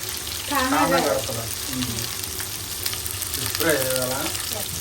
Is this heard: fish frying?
yes